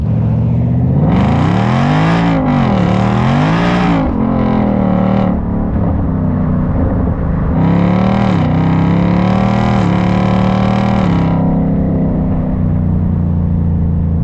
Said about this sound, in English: This is me cruising around a nice neighborhood, not bothering anybody, but when you need it to be absolutely insane, it turns on like a freaking light switch